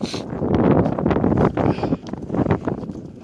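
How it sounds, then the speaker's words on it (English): Wind blows hard against the microphone in steady, low rumbling gusts on a cold hike in Hubbard Park, Meriden, Connecticut, loud and continuous with no voices. "It's windy here too."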